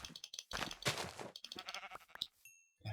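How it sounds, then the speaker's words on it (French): Sheep bleating in the Minecraft video game, several short bleats in quick succession, fairly loud and close, with no talking over them. "Bon, il y a des moutons"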